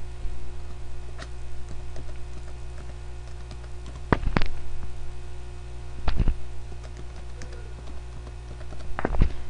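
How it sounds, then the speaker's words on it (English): Fingers type an email address and password on a computer keyboard, a steady patter of light key clicks with a few sharper louder taps, over a low hum. "I'm going to type in my email and my password, my email address and password."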